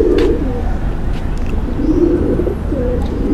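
A pigeon, a female kept among show pigeons, gives soft low coos in a few short phrases over a steady background hum.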